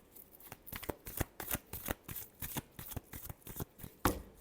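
Tarot cards being shuffled by hand, a quick series of crisp riffling flutters and soft slaps in an even rhythm, close and quiet with no talk.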